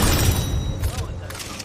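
Grenade explosions in a shooter game: a dense, booming blast with rumbling low end that fills the whole moment, then fades with crackling debris.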